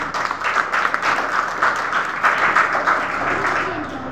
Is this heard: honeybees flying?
no